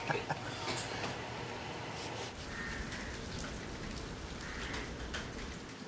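Monsoon rain patters steadily on old plastic party posters tied over a roof in Mumbai, a dense even hiss of drops with no talking.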